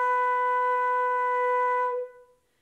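A full flute holds a single clear, steady B natural for about two seconds, then the tone cuts off and fades into silence.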